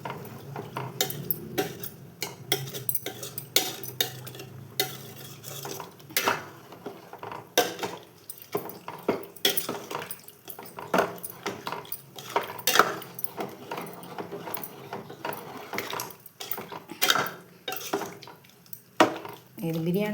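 A spoon clinks and scrapes in a metal pot as soaked rice, its soaking water and masala are mixed for soya chunk rice, giving irregular close clatters and knocks separated by brief quieter gaps.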